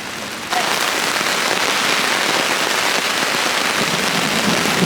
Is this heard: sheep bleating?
no